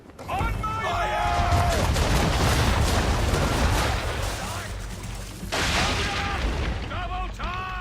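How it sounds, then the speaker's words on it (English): Ship cannons fire a broadside in Assassin's Creed III, with a long rumbling roll of heavy booms followed by a second burst, under a voice heard at the start and the end. "Bring her around broadside, and when all guns are on target, call fire"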